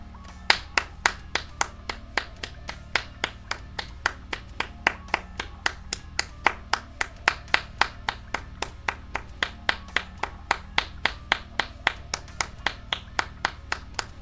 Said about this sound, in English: Claps and more claps.